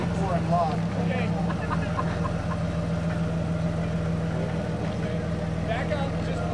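An off-road vehicle's engine runs steadily at idle on a rough trail near a spring waterfall, a constant low rumble throughout with people talking over it.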